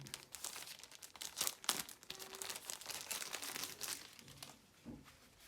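The plastic pouch of a DJI Osmo Mobile 3 gimbal combo crinkles and crackles as it is handled up close, in quiet irregular bursts of rustling with no talk.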